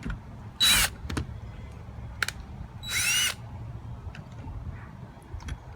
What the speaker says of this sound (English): Drill this without hitting the wires.